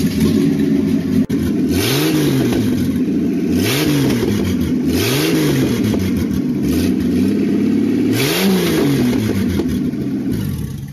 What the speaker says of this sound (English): we're just hand injecting it using a syringe at the moment until it fires over